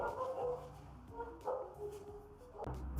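Dogs barking at the mailman, repeated indoor barks and yips with some whimpering, moderately loud and fairly close, uneven rhythm across the short span.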